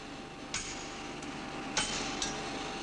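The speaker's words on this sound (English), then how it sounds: "In this state, they join simply by being hammered together." White-hot overlapping metal ends struck together by hand hammer during forge welding, three sharp ringing blows at uneven intervals over a steady background hum, fairly close and distinct.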